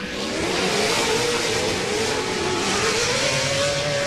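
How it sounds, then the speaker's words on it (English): Pro 4x4 off-road race trucks roar at full throttle on a TORC short-course track, a loud continuous engine drone with rising and falling pitch that holds steady throughout. "Listen to those vehicles roar"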